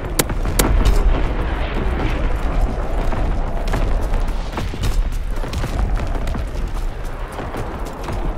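An artillery battery fires repeated heavy booms and blasts, dense and loud, in a near-continuous barrage of overlapping detonations with sharp transients throughout.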